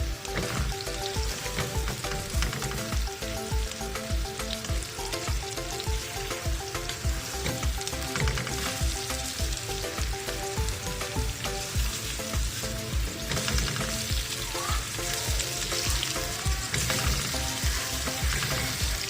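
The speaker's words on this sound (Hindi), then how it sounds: "हाई फ्लेम पर प्याज को हम फ्राई करेंगे।" Onions frying over a high flame in a pan for aloo matar chicken keema, a dense loud continuous sizzle and crackle close up, with no talk over it.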